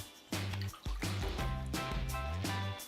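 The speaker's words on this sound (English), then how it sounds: "First, we pour the milk." Milk poured into a bowl as the first ingredient of a corn cake batter, with close, steady glugging and dripping tones that run for nearly three seconds before stopping.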